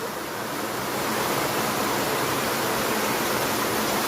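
Pounding continuous rain over a waterlogged street forms a broad, unbroken hiss that rises a little after the first second and then holds level, with no one talking.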